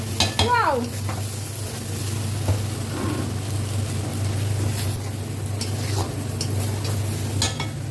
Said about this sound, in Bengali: এই আলু ভাজা হচ্ছে